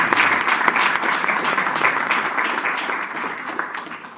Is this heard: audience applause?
yes